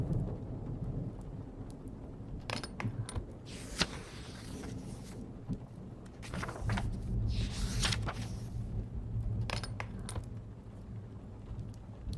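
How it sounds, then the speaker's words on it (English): Thunderstorm with steady rain pattering on surfaces, broken by repeated sharp cracks and deeper rolling rumbles of thunder that swell and fade across the whole stretch. "the storm still rages beyond these walls"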